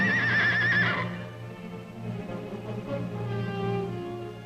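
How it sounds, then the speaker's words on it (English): Wild mustang stallions charging up a crumbling slope in a corral: a loud, shrill whinny opens the scene and breaks off, then a low, steady rumble of hooves and movement continues, with fainter calls in the distance. "the horses charge desperately up the crumbling slope."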